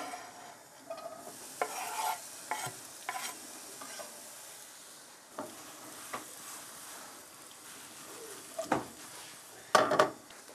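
Onions sautéing in a small amount of oil in a pan, a continuous soft sizzle broken by scattered scraping stirs and a few sharper utensil clinks near the end, close and moderately quiet.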